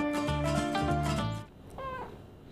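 A cat meows in a few drawn-out, tonal cries close by, followed by a shorter, higher meow after a brief pause, with no talking.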